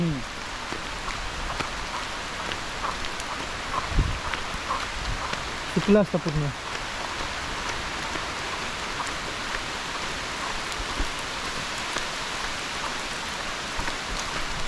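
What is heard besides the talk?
heavy rain while walking in village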